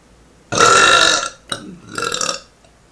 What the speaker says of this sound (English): you're gonna have bigger burps because it's more air that you kept